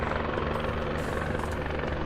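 A Guimbal Cabri helicopter in Microsoft Flight Simulator gives off a continuous, loud rotor and engine drone with a dense, steady hum and no pauses, heard alone without talk.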